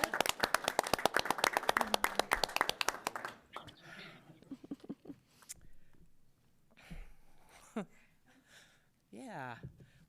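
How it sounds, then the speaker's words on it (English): Audience at a water resources board briefing breaking into a burst of dense, close applause lasting a few seconds, fading into quieter room noise and murmured talk. "So with that, can we please clap?"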